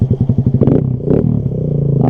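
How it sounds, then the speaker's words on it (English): A Kawasaki Z125 Pro motorcycle cranks over in quick rhythmic pulses, then fires up with a loud, obnoxious exhaust, settling into a close, rapid idle with brief blips of revving. "she roars to life with that obnoxious exhaust"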